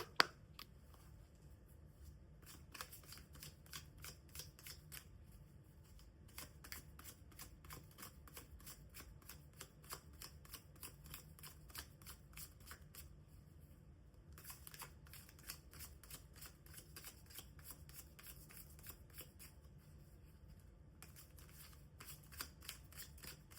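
A tarot deck is shuffled by hand in quick, faint, papery bursts of riffling cards, separated by brief pauses, with no talking.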